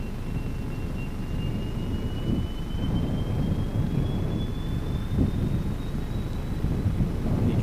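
A jet airliner's engines spool up at Gold Coast Airport, a steady loud broadband roar with a slowly rising whine, heard from a distance and buffeted by wind.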